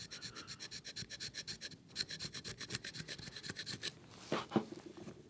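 A small Japanese hand plane shaves wood. Repeated rhythmic rasping strokes sound close and fast, followed by a few slower, heavier scrapes near the end.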